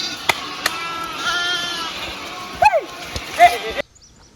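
Sheep and lambs bleat in short calls while the flock is moved across a field, with splashy rustling and a few sharp knocks in the background.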